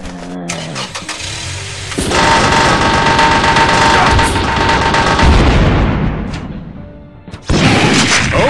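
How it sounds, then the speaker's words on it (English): Sustained loud burst of automatic machine gun fire from a Metal Slug-style animated fan game battle against zombies, dense and continuous for several seconds, with a brief drop before another blast. "Machine gun!"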